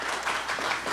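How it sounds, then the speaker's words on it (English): An audience applauds in a steady, dense wash of clapping that holds at an even level for a brief moment, fairly close and alone. "Yes, yes, applause"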